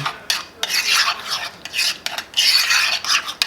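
Cinnamon roll filling with vanilla and brown sugar being stirred in a bowl, close scraping and rubbing strokes in uneven bursts with brief pauses, no speech.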